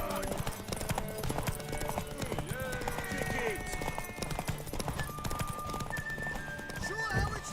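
Horse hooves clip-clop steadily through a video game scene, a horse whinnying amid clashing combat sounds and chatter from game characters.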